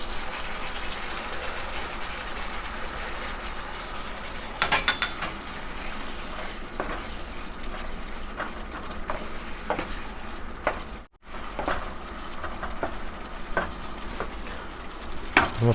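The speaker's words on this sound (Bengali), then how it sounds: "এখন আমি পেঁয়াজ দিয়ে দিব।" Onions drop into hot spiced oil and fry with a steady hiss for a fish curry. Spoon scrapes and clatters are scattered over the sizzle, and a brief gap falls near the end.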